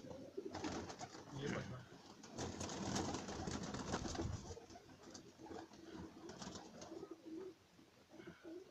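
Sialkoti pigeons coo continuously in a low, throaty murmur, several birds close by, with faint voices and rustling mixed in.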